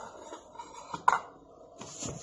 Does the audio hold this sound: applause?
no